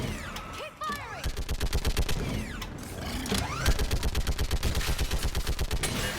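Rapid automatic gunfire in the video game Mass Effect 3, loud bursts of evenly spaced shots with short gaps between volleys and no talking.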